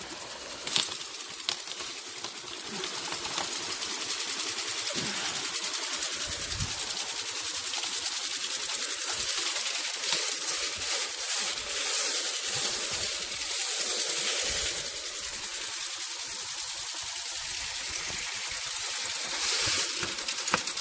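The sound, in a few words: water flowing through a window screen cleaner hose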